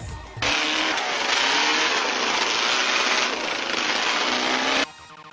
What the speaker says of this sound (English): Motorized chariot racing.